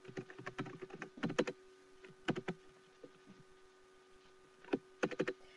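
Bursts of typing on a computer keyboard, with quick clusters of key clicks separated by pauses, close and quiet, with no talk.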